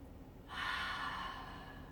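A slow, deep inhale through the nose during a yoga session, a soft breathy rush rising and holding for over a second, close and alone.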